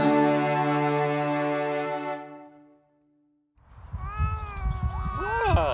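After a sung musical tone fades into a brief silence, a cat cries out with drawn-out, wavering meows that are close and fairly loud.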